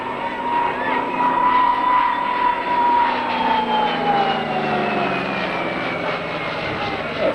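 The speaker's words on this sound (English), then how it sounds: "That's a very tight turn for an aeroplane flat chat." A propeller aeroplane at full power pulls a tight turn at an Australian air show in 1997, its engine drone loud and steady with a pitch that slowly falls as it sweeps past, while an announcer talks over it.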